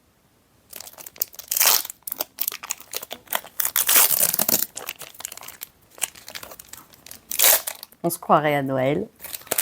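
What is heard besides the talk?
opening a Lorcana card booster pack wrapper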